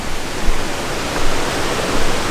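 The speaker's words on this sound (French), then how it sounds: "En tout cas, le débit d'eau, on l'entend." A waterfall at Mont Tremblant National Park, Quebec, roars steadily, a dense, continuous rush of falling water filling the whole clip with no voices.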